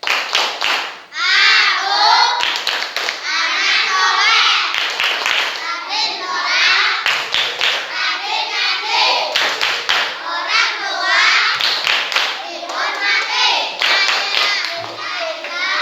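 Children in a classroom chant the tepuk anak soleh clapping rhyme, rhythmic group hand claps punctuating loud sung and shouted words in unison throughout.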